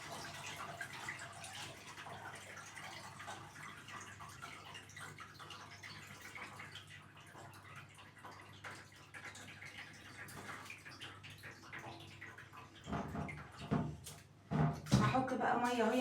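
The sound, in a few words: water pouring into a bowl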